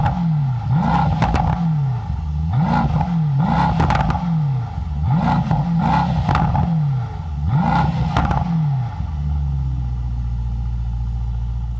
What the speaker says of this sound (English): AMG does great sounding V8, so let's go ahead and fire it up. You can hear how it sounds.